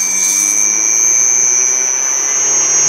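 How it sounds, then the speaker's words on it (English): A belt grinder driven by a remote-controlled motor runs at full speed, giving off a loud, steady high-pitched whine with a constant whirring roar throughout and no talking. "So I'll run this all the way at the full speed."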